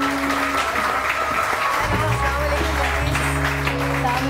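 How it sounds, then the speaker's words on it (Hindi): Continuous clapping from a studio audience on a morning talk show set, steady and fairly loud throughout, with a low background hum and faint voices mixed in. "बजाते रहिए आप लोग, तालियां बजाते रहिए"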